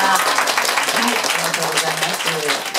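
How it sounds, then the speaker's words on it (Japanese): An audience claps steadily to welcome a Taiwanese three-piece band, a dense wash of applause with an announcer's voice running over it. "大きな拍手でお迎えください。"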